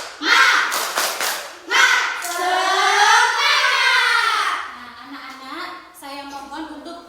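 A third-grade Indonesian classroom does a rhythmic clapping cheer: children chant loudly in unison, punctuated by sharp group claps and thumps.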